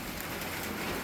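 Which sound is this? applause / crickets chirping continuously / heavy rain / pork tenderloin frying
heavy rain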